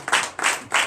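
Church congregation at a Sunday service in Comè, Benin, clapping in acclamation: three short bursts of dense, loud claps in quick succession, each swelling and fading.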